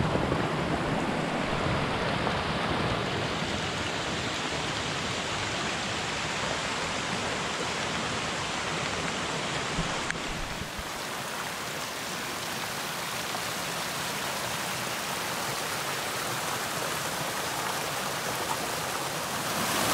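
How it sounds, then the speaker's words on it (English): A swollen brook flowing fast behind a house, well above a gentle babble; a steady broadband rush of water that stays continuous throughout, with a slight shift in tone midway and no talking. "You're looking at the little brook behind our house. It's a little more than a babbling brook today."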